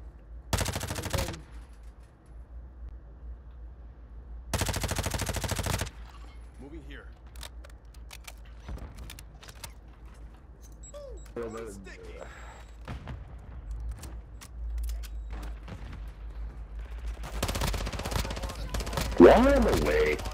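Gunfire from other players in Call of Duty DMZ: loud bursts of automatic shots at the start and around five seconds, then scattered single cracks and a heavy closing barrage, with a player's voice talking in between.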